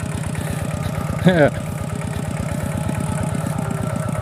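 A two-wheel walking tractor engine idles steadily with an even, rapid thumping rhythm while ploughing a field, close and loud, with a brief voice-like burst partway through.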